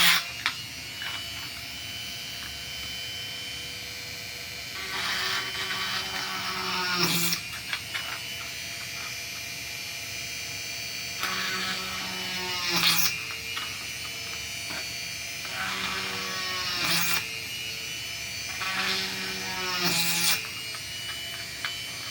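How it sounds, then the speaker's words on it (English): Dremel rotary tool running at low speed, a steady close buzzing whine that rises and falls in pitch over repeated short passes, each ending with a brief sharper burst. "I'm using my Dremel tool on low speeds"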